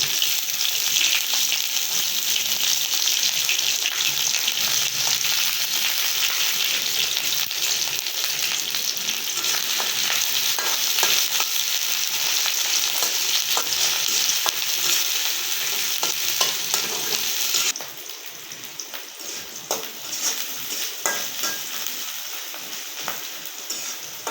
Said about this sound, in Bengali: তেল একটু গরম হওয়ার পরে পেঁয়াজ মরিচ কুচানো দিয়ে নিলাম